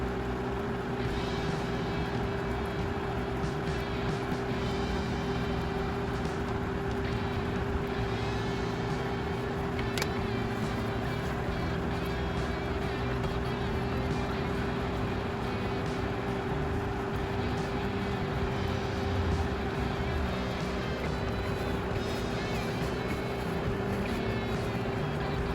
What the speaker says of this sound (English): I do all this too right behind a big box fan blowing right out my window.